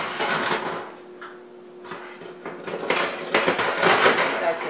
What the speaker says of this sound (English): Drop my rack down.